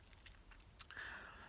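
A single crisp bite into a thin, crunchy chocolate-coated wafer filled with soft chocolate mousse, heard close and quiet, followed by soft chewing.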